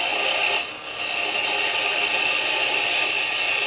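A carbide chisel cuts a tenon into wood spinning on a lathe, giving a continuous loud, rough scraping hiss with a brief dip early on.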